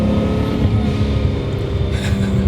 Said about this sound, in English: A 1J is just a very serene and smooth engine.